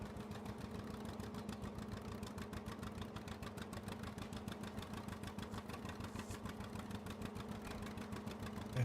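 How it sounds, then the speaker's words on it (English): A 1959 vintage tractor engine in Farming Simulator 22 runs at a steady rhythmic chug, a continuous close drone with fast regular pulses and no talking. "The tractor sounds nice."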